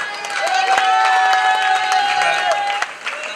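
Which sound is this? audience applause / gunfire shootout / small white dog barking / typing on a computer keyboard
audience applause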